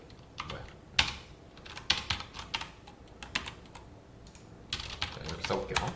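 Computer keyboard keys clatter in irregular bursts as C code on multi-level pointers is typed, crisp clicks close by with short pauses between runs of keystrokes.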